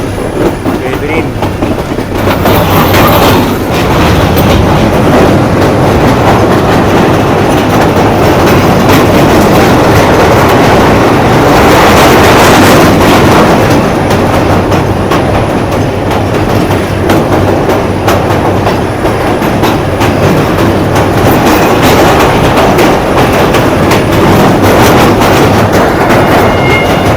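Shah Latif Express passenger train crossing a bridge, recorded from the cab, with loud continuous rolling rumble and rhythmic clickety-clack of wheels over rails throughout, faint voices now and then.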